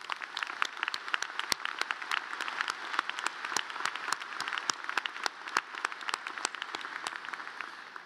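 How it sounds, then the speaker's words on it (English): Graduates at a Clemson University summer commencement applaud their families and mentors, a dense, sustained wash of many hands clapping at once, steady and fairly loud for several seconds in a large venue. "Graduates, let's thank them together with a well-deserved round of applause"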